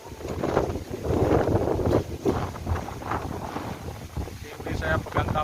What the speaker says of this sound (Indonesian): Angin kuat lur.